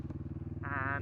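A motorbike engine runs steadily with a pulsing low throb, close and fairly loud, rising in pitch toward the end as it revs.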